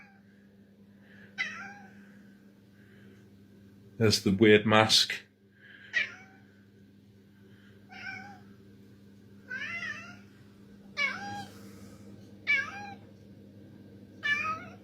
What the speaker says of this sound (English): Even the cat's coming over to investigate.